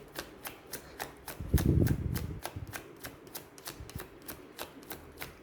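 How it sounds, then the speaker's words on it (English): Tarot cards being shuffled by hand, a run of crisp rapid riffling clicks with a brief louder rustling burst in the middle, close and fairly quiet. "I will shuffle one more time to see"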